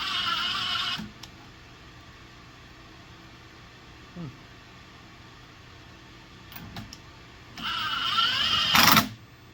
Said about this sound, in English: You can hear the drill working now.